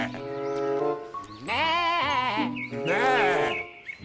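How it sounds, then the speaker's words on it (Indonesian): Two loud, wavering sheep bleats follow an opening stretch of harmonic tonal sound. The setting is a toy-cleaning scene with model vehicles and animal figures, and the bleats are close and clear with no talk over them. "Wih, ini domba teman-teman."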